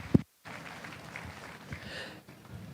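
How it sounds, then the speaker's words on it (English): Audience applause at a San Antonio 2024 market steer livestock show, a soft, steady wash of clapping heard from a distance that swells briefly and then tapers off. "Let's give them a big round of applause for a very nice first class."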